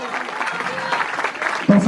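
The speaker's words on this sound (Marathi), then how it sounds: "भारती पवार आहेत त्यांच्यासाठी सर्वांनी जोरदार टाळ्या वाजवायच्या आहेत." A crowd claps steadily at a Marathi women's Paithani game event, a dense, fairly loud patter that carries on throughout, with a brief louder thump near the end.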